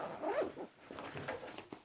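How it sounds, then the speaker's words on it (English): YKK water-resistant zipper on the main compartment of a Vanquest Dendrite Large Sling bag being pulled open, a quiet, close ratcheting zip in a couple of short strokes followed by faint handling rustles. "This main compartment here has water-resistant zippers, not AquaGuard. Everything is YKK."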